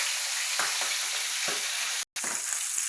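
Oil sizzles and splatters steadily in a home frying pan while eggs cook, a loud continuous hiss with a few sharper pops and a brief dropout near the end.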